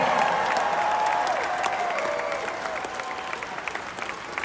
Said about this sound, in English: let's give a round of applause for this wonderful crew